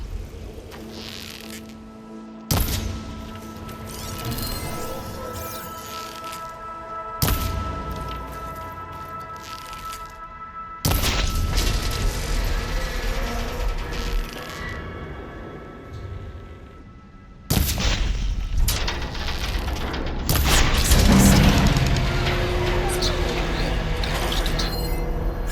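In Horizon Forbidden West, a heavy machine arm crashes down after its cable coupling is shot free, heard as several loud, booming mechanical impacts spread over the stretch amid a constant, dense game soundscape.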